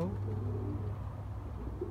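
Racing pigeons cooing softly in a loft, a low steady murmur of coos running throughout with no break.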